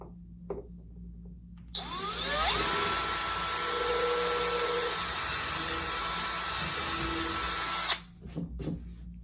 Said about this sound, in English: we'll just drill a small pilot hole